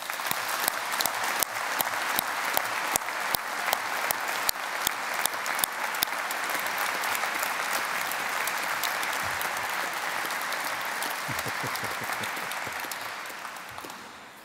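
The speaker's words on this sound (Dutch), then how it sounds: "applaus." A steady, sustained round of audience applause at a mayor's swearing-in ceremony, crisp and evenly dense for about fourteen seconds before tapering slightly at the end.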